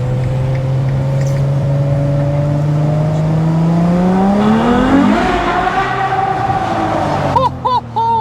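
A Ferrari 812 Superfast V12 at high speed on the Autobahn gives a loud, climbing engine note that rises steadily, drops with a gear change around five seconds and keeps pulling, with strong wind and road roar beneath.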